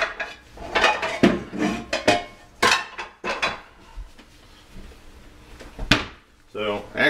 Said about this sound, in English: I got to get my pots and pans, or well, actually, the frying pans.